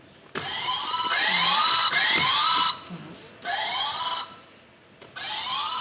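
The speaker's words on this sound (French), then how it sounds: "Allez, on va tester les buzzers" A series of electronic game show buzzer tones sounding one after another with short pauses between, each a bright sustained beep, fairly loud.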